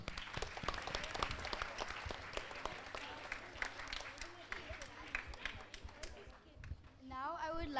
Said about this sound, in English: Another huge round of applause for them.